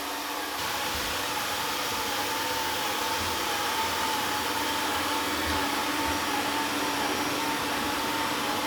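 A Dreame Aqua 10 Ultra robot vacuum cleans a floor with a continuous, even motor whir and brush hum that stays loud and steady throughout.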